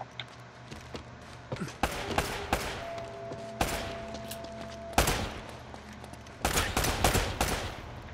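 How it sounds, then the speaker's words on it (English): Gunfire in the video game Uncharted: Drake's Fortune rings out in repeated sharp bursts and volleys, some single shots and some rapid strings, loud and close over a steady low background hum. "Where the fuck is shooting?"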